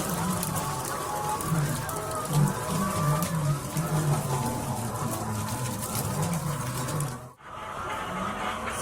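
Laying hens packed into battery cages on an Indonesian egg farm make a dense, continuous murmur of clucking and rustling, heard fairly close with no talk, dropping away for a moment near the end.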